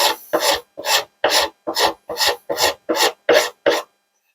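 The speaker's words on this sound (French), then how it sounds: "je vais utiliser une râpe à bois. Et donc je vais commencer à limer, ou à râper plus exactement," A wood rasp files excess wood and resin off a pendant in about ten rhythmic, evenly spaced rasping strokes, loud and close with short silences between.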